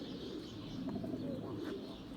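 Pigeons in a Turkish flying-pigeon flock cooing, a continuous low throaty murmur at moderate loudness with a few faint higher chirps mixed in.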